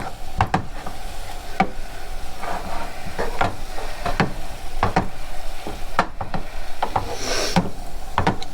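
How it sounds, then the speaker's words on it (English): Steady sizzling of butter melting and frying in a pan, with scattered pops and the scrape of a utensil stirring, continuous and fairly loud, no voices. "we're gonna let this fry right up. I'm gonna let that butter melt"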